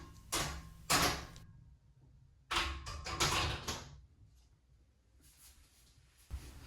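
An inside glass shower door being fitted into place gives several separate bursts of sliding, scraping and knocking, close and fairly quiet, with short silences between them.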